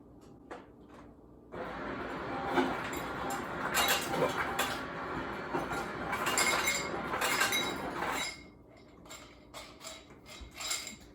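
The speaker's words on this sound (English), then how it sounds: "Fill it about halfway with ice." Ice cubes rattle and clink into a reusable cup with a straw, a dense burst of hard clattering lasting several seconds, followed by a few scattered clinks as the pieces settle.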